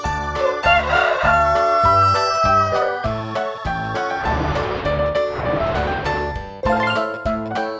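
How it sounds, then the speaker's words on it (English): Rooster crowing in a farm-animal sound set for children, with a bright jingly music bed playing steadily underneath the call throughout. "Rooster."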